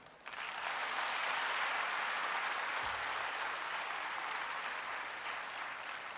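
A hall audience at a motivational talk bursts into dense, sustained applause lasting about six seconds at an even, moderate level, with no speech over it.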